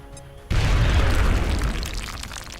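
A frag grenade explodes in the X-Com: Enemy Within strategy game, a sudden loud booming blast after a short quiet lead-in, followed by a rumbling, crackling decay that fades over about two seconds.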